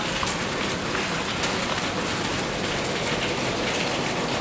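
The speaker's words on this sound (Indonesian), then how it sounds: "Hujannya deras banget." Heavy rain pours down steadily and loudly, a dense unbroken hiss of drops drumming on surfaces nearby with no pauses.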